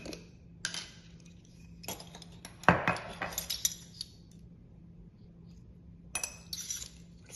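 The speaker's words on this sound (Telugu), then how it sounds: "సాల్ట్ వేస్తున్నాను 1/4 టీ స్పూన్." A teaspoon of salt is added to almond cake batter with a few metallic clinks of spoon against a bowl, close and fairly quiet, with a brighter cluster of taps near the middle and another at the end.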